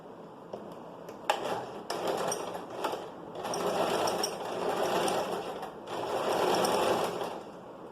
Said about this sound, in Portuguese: agora, a gente vai levar para a máquina de costura as duas partes pra gente costurar